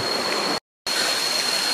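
Waterfall on a mountain in Thailand, a steady loud broadband rush of falling water, briefly cut to silence partway through.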